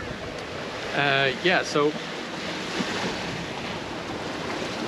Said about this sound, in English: The waves are building up behind me.